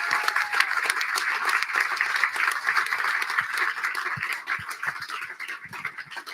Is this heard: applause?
yes